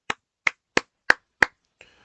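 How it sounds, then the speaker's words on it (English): Five sharp hand claps from one person, close and evenly spaced in a slow steady rhythm, followed by a faint brief rustle in otherwise quiet surroundings. "I clap in astonishment."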